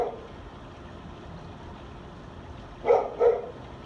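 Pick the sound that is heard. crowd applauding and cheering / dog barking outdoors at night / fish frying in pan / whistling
dog barking outdoors at night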